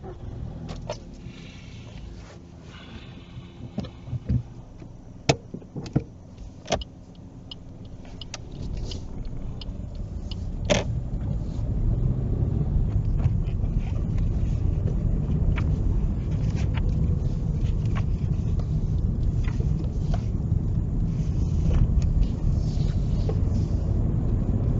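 A learner driver's car pulls away on a driving test, the engine rumble rising and settling into a steady drive-off hum after a few clicks and knocks inside the cabin.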